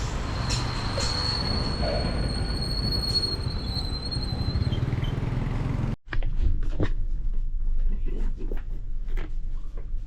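A metro train rumbles loudly with a high squeal of wheels, then a sudden cut to a quieter, clattering carriage interior.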